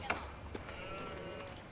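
Sheep bleat in the video game Age of Empires IV, a few short calls over game ambience with a player talking.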